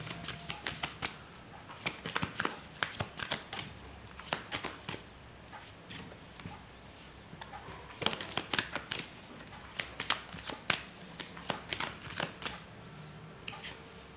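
Tarot cards being shuffled by hand, close and crisp, in repeated bursts of riffling and slapping with short pauses between, without talking.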